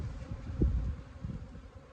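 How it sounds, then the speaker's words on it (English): Honeybees buzz steadily around an opened beehive during a spring inspection, a soft continuous hum close by with no talking. "This hive looks like that it lost a swarm"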